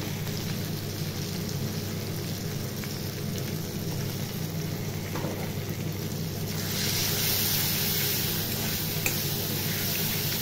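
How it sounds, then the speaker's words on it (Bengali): Ground spices with ginger-garlic paste, turmeric, chilli powder and green chilli frying in oil for chicken kofta curry; a steady low sizzle, growing brighter and louder in the second half, with no talk. "একটু ভাজা ভাজা হয়ে যাক এই মশলাটা"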